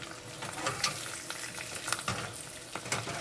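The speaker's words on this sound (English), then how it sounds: "So over here, my egg needs to be flipped." An egg fries in a pan with a steady, crackling sizzle and scattered spits and pops, heard up close without speech.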